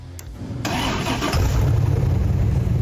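A 590hp LS engine in a bodiless track car, strapped to a chassis dyno, cranks briefly, catches with a loud roar and settles into a steady, rumbling idle.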